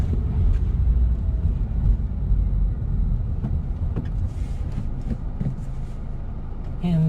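A manual transmission car downshifts from fourth gear toward a stop sign, with a steady, loud, low engine and road drone that rises and eases slightly throughout.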